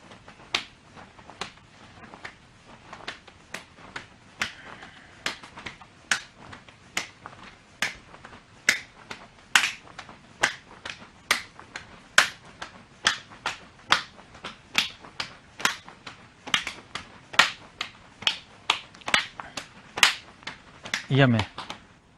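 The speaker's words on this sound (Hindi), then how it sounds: "हम दोनों पैरों को जंप के साथ खोलेंगे और हाथों से ऊपर की तरफ ताली बजाएंगे, जिसको जंपिंग जैक्स बोलते हैं।" Hands clapping overhead during a jumping jacks exercise in a women's self-defence training session: a long run of sharp, evenly spaced claps, about twenty of them, moderately close with little else around.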